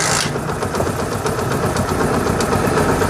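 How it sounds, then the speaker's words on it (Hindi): A Honda CD70 motorcycle engine, kick-started, runs close by at a steady idle, a loud, continuous rattling putter with a brief burst at the start. "बाइक की साउंड जो है बिल्कुल बेहतरीन हो गई है"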